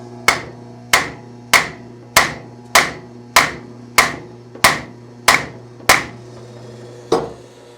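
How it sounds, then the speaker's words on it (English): Ten sharp, ringing blows from a bigger hammer on a Jeep CJ2A starter, evenly spaced about two-thirds of a second apart, followed by one softer strike, close and loud with no talking. "I get it in there with a bigger hammer,"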